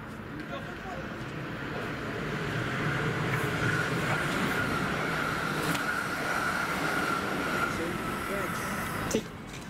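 A train passes through Acton Main Line station on the Great Western Main Line, a steady broadband rumble with a sustained tonal whine that holds for the full stretch, ending in a brief sharp knock.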